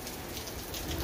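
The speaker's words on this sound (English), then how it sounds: "it's raining hard now" Heavy rain from a thunderstorm pours down steadily in a dense, unbroken hiss, close and fairly loud, with no voices.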